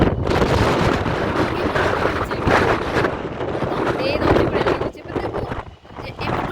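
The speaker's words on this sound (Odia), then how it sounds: "ବହୁତ ଜୋର ପବନ ହଉଛି ଏଠି" Strong gusting wind roars into the microphone beside a seaside Jagannath temple at Digha beach at night, a loud, continuous rushing buffet that dips briefly near the end, with a person talking over it.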